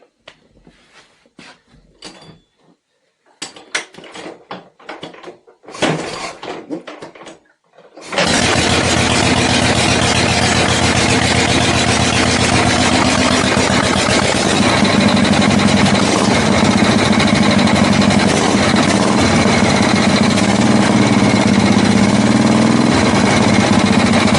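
A Harley-Davidson Shovelhead engine cranks in a few uneven bursts, then catches at about eight seconds and runs loud and steady close by, with a busy mechanical gear clatter and tappet rattle over the exhaust beat.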